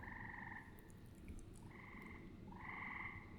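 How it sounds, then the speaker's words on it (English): Frogs croak in an imaginary forest scene built in FMOD Studio, with reverb added. Several drawn-out, pulsing calls overlap and trail off in soft echoes, quiet and without voices. "there you can hear it sort of sounds like the frogs are echoing out in my imaginary forest"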